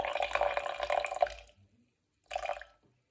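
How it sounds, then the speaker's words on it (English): Water pours from a tap or jug onto a kitchen scale while measuring it for sourdough bread, a close, moderately loud splashing stream lasting over a second, then a brief second pour after a short pause. "and then I add 50 grams of water."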